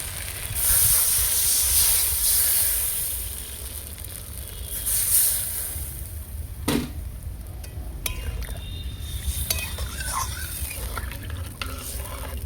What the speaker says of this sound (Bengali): আমার কষানো হয়ে গেছে সেদ্ধ হওয়ার জন্য পরিমাণ মতো জল দিয়ে দেবো